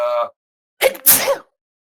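A brief voiced sound is followed by a pause, then a single loud, sharp sneeze close by, an abrupt intake and explosive burst.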